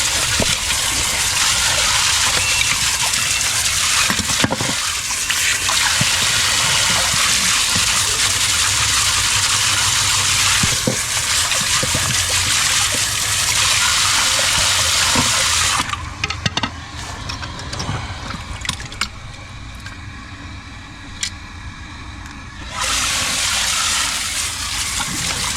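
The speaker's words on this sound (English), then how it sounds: "Okay, well, the pump works." A pool sump pump runs steadily, with a loud, continuous gushing rush of water and motor hum that holds for most of the stretch, drops into a thinner, gurgling flow for several seconds, then surges back to full strength.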